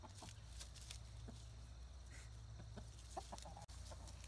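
A rooster clucks in short, scattered bursts, somewhat distant, over a constant low hum of background noise.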